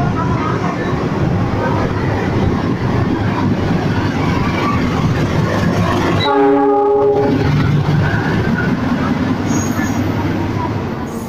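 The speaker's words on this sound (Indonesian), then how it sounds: "Jalur 6 untuk lokomotif dinas, hati-hati di jalur 6 lokomotif dinas." Service locomotive rumbling through Jatinegara station in Jakarta, a loud continuous roar of engine and wheels close by, broken by a long blast of the horn partway through, while a station announcement plays over the noise.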